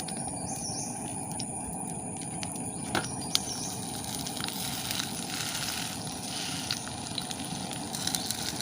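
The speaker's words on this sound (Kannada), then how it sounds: "ಇವಾಗ ಕಾವಲಿ ಬಿಸಿಯಾಗಿದೆ ಇವಾಗ ನಾನು ಸಜ್ಜಿಗೆ ರೊಟ್ಟಿಯನ್ನು ಕಾವಲಿಗೆ ಹಾಕಿ ಹೇಳ್ತಿದ್ದೇನೆ" Semolina rotti (Mangalorean rava rotti) sizzling on a hot griddle, a steady soft frying hiss that holds evenly throughout, fairly quiet and heard alone.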